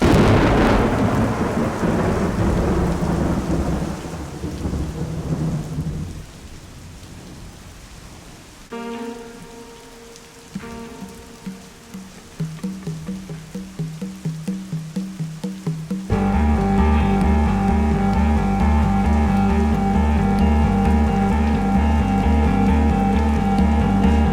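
Rumbling thunder and rain noise at first give way to droning electronic tones and a steady pulsing beat in a piece of music, a 24-hour song.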